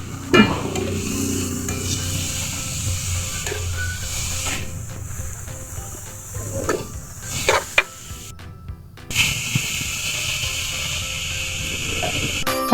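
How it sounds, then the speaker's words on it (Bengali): Chopped vegetables fry and are stirred in a pan for egg Maggi noodles, with steady sizzling and repeated scraping, clinking utensil strokes close by, a brief quieter gap midway, and no talking. "এখন এগুলো কিছুক্ষণ ভেজে নেব।"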